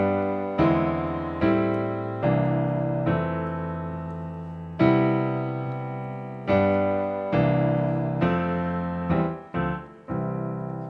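Piano chords built on secondary dominant passing chords, struck one at a time in a slow progression; each chord rings out and decays before the next, played alone and up close.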